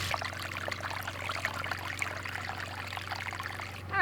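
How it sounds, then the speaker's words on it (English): Soapy water pours out of a bucket's opened drain valve in a steady, faint trickling stream, close by and continuous, with a small knock near the end and no talking. "So I take that drain valve off, let out all the soapy water"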